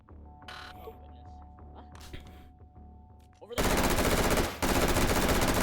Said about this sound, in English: this is the assault rifle.